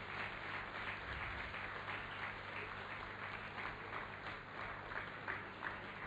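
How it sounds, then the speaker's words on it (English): Steady crowd applause at an awards ceremony and logo unveiling, greeting Nigeria's former president as he takes the stage; dense, continuous clapping with a noisy hall texture fills the whole stretch at even loudness. "Is it possible we don't let the round of applause stop until the man has stopped on the stage here?"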